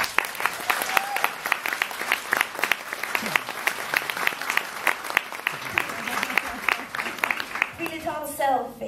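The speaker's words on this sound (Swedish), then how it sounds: "en stor applåd" An audience at a climate event applauds a stage act with dense, steady clapping for about eight seconds, then voices and speech take over near the end.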